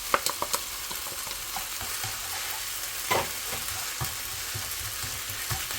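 Japchae stir-fried in a pan with perilla leaves and scallions, a steady sizzle with scattered clicks and scrapes of a utensil stirring, close and moderately loud with no talking.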